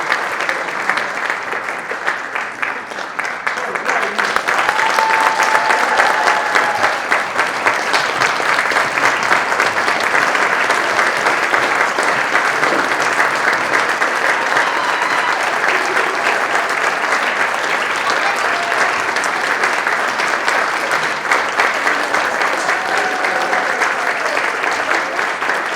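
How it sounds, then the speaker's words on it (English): A large crowd at a Martin Luther King Jr. community breakfast applauds an award recipient, sustained loud, even clapping that swells after a few seconds and carries on steadily without letup. "So please, let's applaud."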